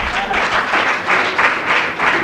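A conference audience applauds a colleague who stands, steady dense clapping throughout with pulsing swells, loud and close, no talk over it.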